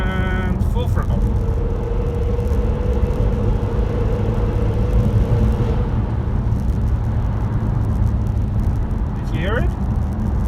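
Renault Megane 3 RS Turbo at full throttle in fourth gear around 70 km/h and 2,700 RPM, a steady droning engine rumble and whir from inside the car that stays loud throughout, with a brief rising whine near the end.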